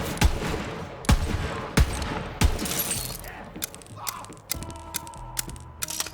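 Gunfire in the video game Borderlands 3, several loud sharp shots in quick succession followed by quieter mechanical clicks, clatter and game effects, with no talk.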